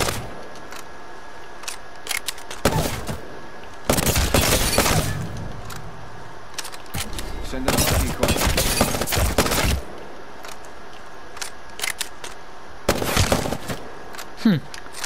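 Prowler SMG fire in the video game Apex Legends comes in several loud, dense bursts separated by short pauses, with crisp clicks and mechanical sounds between them.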